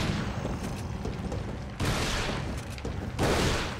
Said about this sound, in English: Let's try and use a shotgun for a little bit